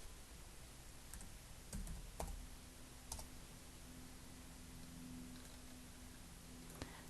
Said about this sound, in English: I'm just going to click and type in the word ramp.